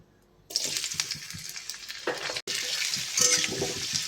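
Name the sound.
carrots frying in oil for hakka noodles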